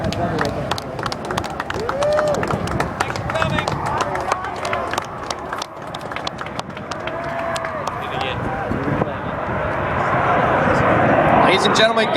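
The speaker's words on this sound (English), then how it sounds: "Captain Mike Plusinski demonstrating the hover capabilities of the AV-8B Harrier." An AV-8B Harrier jet hovering at the Oregon International Airshow, a sustained jet roar that swells toward the end, with crowd noise and voices beneath it.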